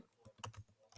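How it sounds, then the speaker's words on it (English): Soft typing on a computer keyboard, with a short run of faint, quick key clicks that sound close and quiet and carry no voices. "they can just start typing"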